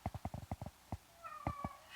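A cat meows close by in a rapid string of short, sharp calls, followed by a couple of longer, more drawn-out meows after a brief pause, heard alone in a quiet room.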